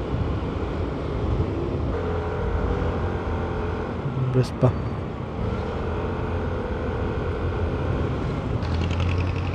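Motorcycle with its top box removed riding along Cabrera Road, a steady engine and road rumble running throughout, fairly close, with a brief passing-vehicle swell midway and someone talking over it.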